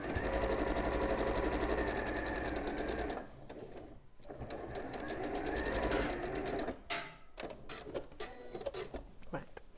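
A sewing machine stitches a dart in a dress, a steady fast mechanical whir that stops and restarts in short runs, heard close and loud with occasional talk over it.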